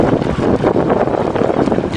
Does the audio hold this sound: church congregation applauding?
no